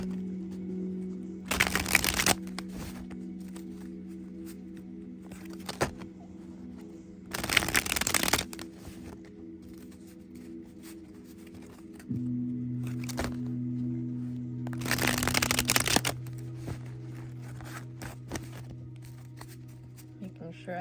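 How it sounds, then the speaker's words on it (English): Decks of tarot cards being shuffled, heard as three loud bursts of riffling and snapping cards spaced several seconds apart, with a low steady hum and quiet handling noises between them. "Making sure I give these decks a good shuffle."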